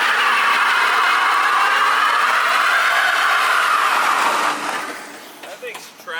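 Porsche GT3 spinning its tyres in a loud burnout, a sustained broadband screech and roar that holds steady for several seconds, then drops away as voices come in near the end.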